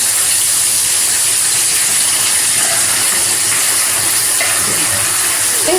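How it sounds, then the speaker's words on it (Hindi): Paneer cubes frying in a pan for kadai paneer give off a loud, steady steamy hiss with a bright high sizzle that runs unbroken from start to finish, with no voices over it. "ये पनीर को मैं फ्राई करूँगी"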